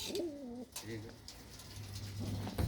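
Pigeons coo close by in a loft where birds are having their wing feathers clipped, with a few rounded, repeated coos over a low background hum and a faint voice.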